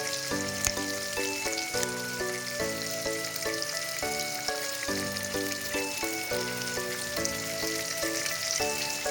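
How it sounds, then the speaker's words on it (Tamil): Steady crackling sizzle of tomatoes sautéing in oil, continuous throughout, with melodic music playing over it. "நல்லா எண்ணெயில் நல்லா தக்காளியை வதக்கிக்கோங்க."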